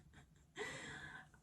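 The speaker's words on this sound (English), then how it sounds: "this dog is snoring" A sleeping dog snores faintly nearby: one drawn-out, raspy, breathy inhalation follows a few softer breaths in a quiet room.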